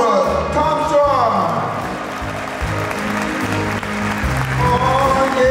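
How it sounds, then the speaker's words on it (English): Audience applause at a concert at the Kimmel Center in Philadelphia, a dense steady wash of clapping from the crowd, with someone speaking loudly over it. "How about a big round of applause from Chicago, Illinois?"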